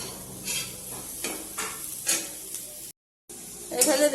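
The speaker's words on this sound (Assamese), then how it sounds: "সৰু আলু গুটি ভাজি আছো" Small potatoes frying in a pan of oil, a steady sizzle broken by repeated scrapes and clinks of a spatula stirring, with a brief silent cut before the frying resumes.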